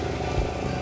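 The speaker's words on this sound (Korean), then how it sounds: "짧은 만남을 뒤로 한 채 오토바이가 떠나고" A motorcycle engine runs steadily at close range, a continuous mid-pitched drone with a brief thump near the middle and no voices.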